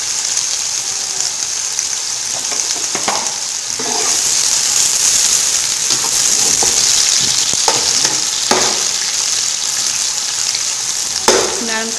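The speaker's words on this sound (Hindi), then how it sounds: "प्याज डाल देंगे, तकरीबन ये 1 किलो प्याज है 3 किलो गोश्त के लिए।" About a kilo of onions frying loudly in a pot of hot oil for beef achar gosht, a dense continuous sizzle with occasional stirring scrapes and clatters, close and with no voices.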